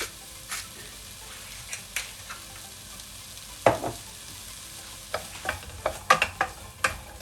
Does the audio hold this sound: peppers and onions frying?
yes